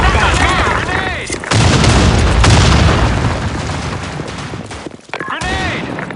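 A grenade blast lands as a heavy, loud boom that rolls on for a couple of seconds, surrounded by sharp bursts and crackling gunfire, with shouting voices around it.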